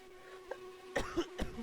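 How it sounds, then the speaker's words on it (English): Several quiet coughs in a short cluster, a small one followed by three harsher throat-clearing bursts, close but faint. "I do not know what's making me cough so much."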